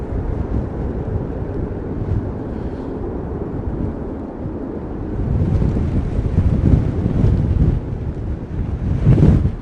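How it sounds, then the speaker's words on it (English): Strong gusts of Storm Darragh at Heathrow Airport, a loud roaring rumble buffeting the microphone that eases briefly then surges harder, with no speech. "Wow, wind's just picked up again, man. Wind has just picked up again."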